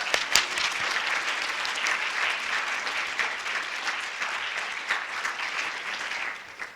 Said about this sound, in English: You all wanted to applaud there.